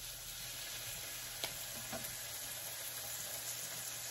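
Shrimp sizzle on a Korean barbecue grill at home, a soft, steady hiss with a few faint clicks and no voices.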